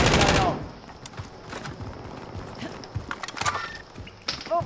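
Rapid gunfire from the video game Call of Duty: Modern Warfare, a loud burst at the start followed by scattered shots and clatter, with footstep-like thuds throughout.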